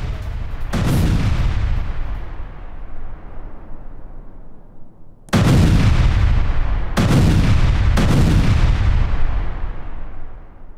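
Heavy bombing blasts from IDF aircraft strike southern Lebanon: a long booming explosion rumbles and decays, then three more powerful, close, loud blasts follow in quick succession over sustained roar.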